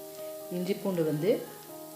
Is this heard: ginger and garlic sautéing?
yes